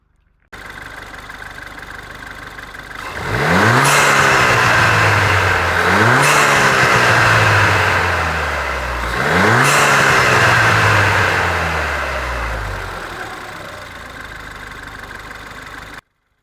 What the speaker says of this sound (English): is some exhaust noises for you right there